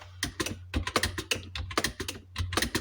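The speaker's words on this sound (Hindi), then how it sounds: "शिफ्ट के साथ मिडिल फिंगर को एल से उठाकर कॉमा पर रखते हैं तो आपका ढा टाइप होता है" Keys clatter on a computer keyboard as Hindi text is typed, a brisk irregular run of close clicks and taps with brief pauses between bursts.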